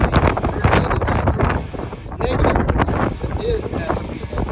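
Strong gusts buffet the microphone outdoors while someone works on a 1969 Chevelle, rumbling and fluctuating throughout beneath a man's speech.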